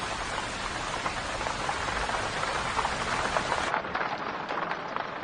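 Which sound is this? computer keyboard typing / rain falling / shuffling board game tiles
rain falling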